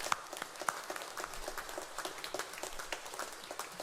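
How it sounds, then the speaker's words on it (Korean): Church congregation at a Sunday worship service clapping in applause, a faint, steady patter of many hands throughout without a break. "영광과 감사와 찬송의 박수 다시 한번 올려드리겠습니다"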